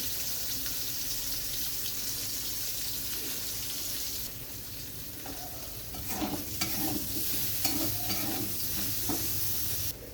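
Round slices of bitter gourd coated in salt and turmeric fry in hot oil, a continuous close sizzle that brightens midway, with scattered stirring scrapes and clinks in the later half.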